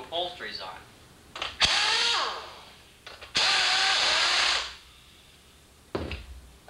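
A power tool drives bolts back into a Pontiac Fiero car seat during upholstery work, whirring in two sustained bursts with shorter clicks and a brief spurt, while someone talks between them.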